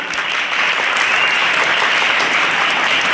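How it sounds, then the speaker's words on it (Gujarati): Sustained applause from a school audience at a girls' event in Deesa, a dense, steady wash of many hands clapping close and loud, with no voices over it. "ચલો જોરદાર તાળી પાડો એકવાર"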